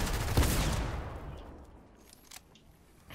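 A burst of rapid gunfire from a Fortnite match opens loud and close, then fades into a lower, quieter wash with a few scattered distant shots near the end.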